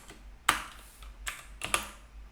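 Three separate keystrokes on a computer keyboard while typing into an Excel spreadsheet, crisp and close, spaced irregularly with quiet gaps and no talking.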